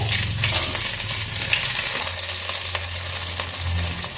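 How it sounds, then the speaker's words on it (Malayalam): Ginger garlic paste frying in a pan for an egg stew, a steady close sizzle with scraping stir strokes and a low hum running beneath, no voices. "ഈ സമയത്ത് നമുക്ക് ഇഞ്ചി വെളുത്തുള്ളി പേസ്റ്റ് ആഡ് ചെയ്യാം"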